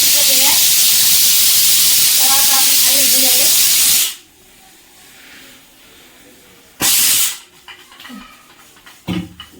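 A pressure cooker whistle blasts steam in a loud continuous hiss for about four seconds, then falls silent before a second short burst of venting; a voice is heard briefly.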